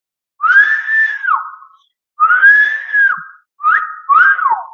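A person whistles in three separate phrases, each a long rising-then-falling note followed by a shorter pair of gliding notes, loud and close with no talking.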